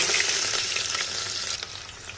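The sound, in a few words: onions frying in hot smoking oil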